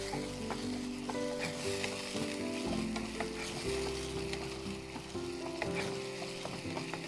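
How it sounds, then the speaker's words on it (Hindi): Yogurt is stirred into a sizzling paneer gravy, a dense close frying hiss with soft scraping stirs and a steady low hum underneath, with no one speaking. "अब इसमें हम डाल देंगे दही। दही डालकर मिक्स कीजिए।"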